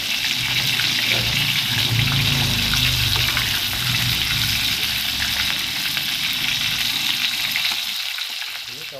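Tempeh fries in a pan of oil with a loud, dense, continuous sizzle close by, softening slightly toward the end, and no talking.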